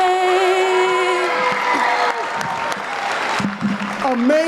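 Applause and some cheering from an audience for a singer right after the national anthem at a school DEI showcase, with a sung note fading at the start and voices mixing in over the clapping.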